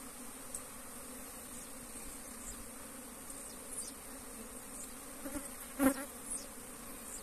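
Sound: bee swarm buzzing, leaving the hive box

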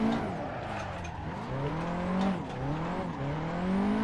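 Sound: Nissan S13 drifting with handbrake on a circuit

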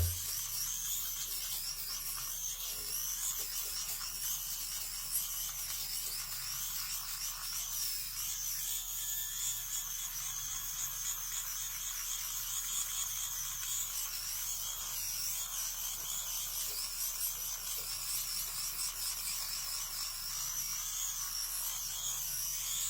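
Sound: compact men's electric shaver Flawlbss shaving stubble

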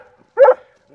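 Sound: Airedale Terrier dog barking

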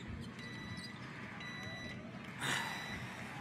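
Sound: microwave beeping in video game Captain Spirit

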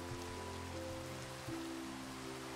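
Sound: rain in Minecraft video game

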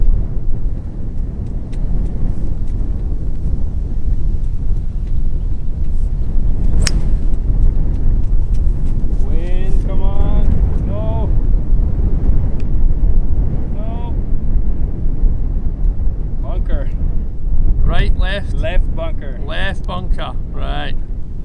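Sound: heavy crosswind blowing on a golf course

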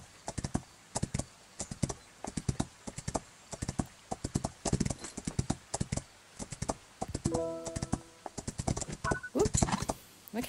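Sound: horse hoofbeats in Rival Stars Horse Racing video game

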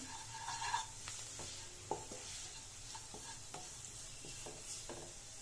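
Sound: stirring spicy egg sukka in a pan

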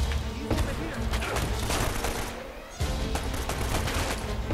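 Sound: gunfire in Uncharted: Drake's Fortune, a video game

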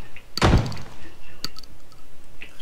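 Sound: door slamming in a video game

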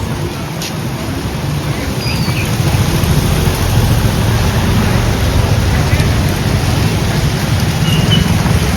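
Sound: heavy rain

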